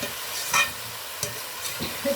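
Spice paste fries in hot oil in a pan for a spicy katla fish curry, giving a steady, close sizzle broken by a few scraping stir strokes.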